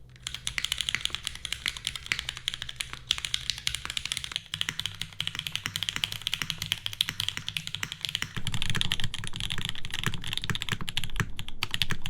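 Continuous typing on a Jane V2 CE mechanical keyboard with a dry, old-school, non-foamy sound: a dense stream of close, crisp keystrokes for about twelve seconds, growing a bit louder and busier near the end, with no voices.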